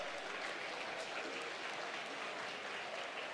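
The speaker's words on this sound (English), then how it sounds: "Please give him a round of applause." Applause from an audience at a grand opening event at Hummingbird Nest Ranch, a steady, fairly faint wash of clapping that continues evenly throughout.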